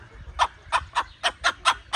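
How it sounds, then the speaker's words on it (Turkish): A rooster gives a quick run of seven short, evenly spaced clucking calls close by, summoning hens to food it has found on a farm. "Dişi çağırıyor yanına. Gel diyor, yemek buldum diyor."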